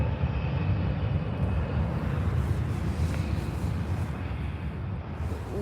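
Airliner on short final approach to the runway at Calgary airport, a loud, sustained jet engine roar heard from nearby, steady throughout with no talk.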